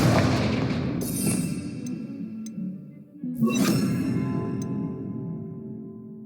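Confringo blasting spell in Hogwarts Legacy, two fiery bursts, each a sharp whooshing crack that blooms into a rumbling boom and slowly fades, with no voices.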